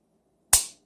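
A single sharp click from the trigger of a Springfield Armory EMP4 1911 9mm pistol being dry-fired, close and isolated against near silence.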